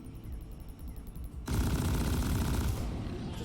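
Sustained automatic weapon fire in the video game Deep Rock Galactic kicks in suddenly and keeps up as a dense, loud, continuous burst after a quieter stretch of game ambience.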